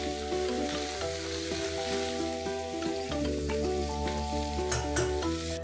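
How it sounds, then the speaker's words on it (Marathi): Large green chillies, cut into two-inch lengths, fry in hot oil for mirchi ka salan, giving a steady close sizzle with scraping stirring over a constant hiss, no voices. "ह्याच्यासाठी मी अशा मोठ्या हिरव्या मिरच्या घेतलेल्या आहेत, त्या मी 2 इंच लांब कापलेल्या आहेत, ते आता थोडेसे मी परतून घेणार आहे"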